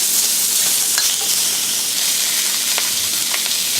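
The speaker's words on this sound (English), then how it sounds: "So get a good sear of the pork belly." Pork belly sears in a hot pan, stir fried with ginger and garlic, giving a loud, steady sizzle and hiss throughout with faint occasional stirring scrapes.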